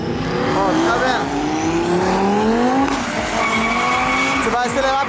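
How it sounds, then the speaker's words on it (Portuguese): A drift car warms its tires on a track, its engine revving up in rising, sweeping pitches with tire squeal and skidding, close and loud, while voices talk over it. "O João Barião tá aquecendo os pneus."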